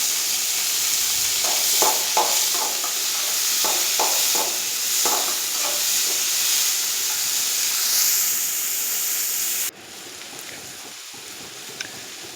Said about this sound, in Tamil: 2 தக்காளி அதில் போட்டு நல்லா வதக்கிக்கணும்